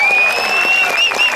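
A fair crowd gives a band a short, dense burst of applause, loud and close, with a high sustained tone running through it and a voice over the clapping.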